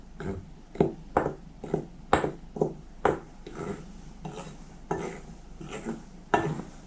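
Dry flour mixed with dry yeast is stirred in a bowl, giving a series of close, irregular scrapes and clinks about every half second, with no talking.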